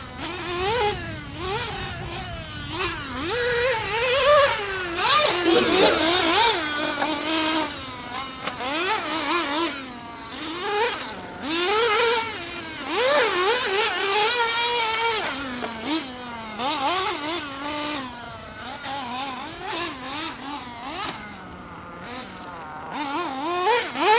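Nitro-powered 1/8-scale RC buggies, a Tekno NB48 2.1 and Team Associated RC8B4, driven around a track: a high-pitched two-stroke whine that repeatedly revs up and drops off as the cars pass near and far, with no talking.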